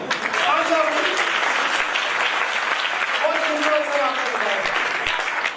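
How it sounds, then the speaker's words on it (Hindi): Loud applause from a church congregation, a dense steady clatter of clapping hands filling the whole stretch with raised voices mixed in. "हालेलुया, जोरदार तालियां।"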